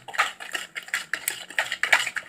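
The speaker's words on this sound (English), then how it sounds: "Crack the second egg, and then add it in your mixture. And just mix it in until it's well combined in there." A utensil scrapes and clinks against a bowl while egg is mixed into cupcake batter, a rhythmic series of close, bright taps and scrapes with no talking.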